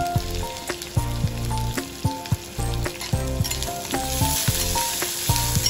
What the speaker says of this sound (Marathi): ठेचलेले जिरे लसूण आणि कांदे टाकून चांगले परतून घेऊ.